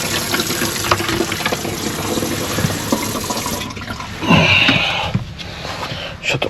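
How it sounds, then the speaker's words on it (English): Water gushes from a tap into a bucket beside a septic tank, a steady rushing stream that grows fuller and louder toward the end, with light outdoor noise around it. "Fill our bucket of water up."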